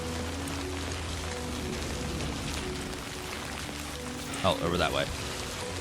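Steady Timefall rain hisses and patters throughout a Death Stranding 2 scene, a constant wash of falling water with someone speaking briefly over it near the end.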